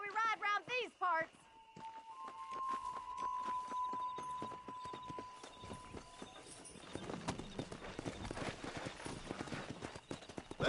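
Horse hooves clip-clop in Red Dead Redemption as a rider sets off, a steady rhythmic trot that quickens into a galloping beat, with speech and a whinny-like voice at the start.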